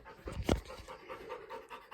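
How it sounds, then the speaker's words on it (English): A female dog pants after a game of fetch, quick rhythmic close-up breaths repeating steadily, with one louder huff near the start and no talking over it. "Just got done playing fetch with her"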